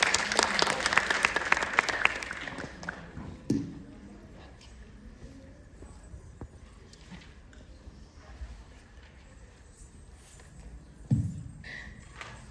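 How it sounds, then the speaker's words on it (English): An audience claps for a solo Odissi dancer at a wellness university competition, starting with a burst of applause that fades to sparse, faint claps and scattered noises, then a brief swell near the end. "A big round of applause for Shivangi."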